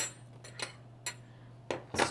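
A small twist-off cap wine bottle is handled in a kitchen, giving a few faint, sharp clinks and taps against a quiet background hum.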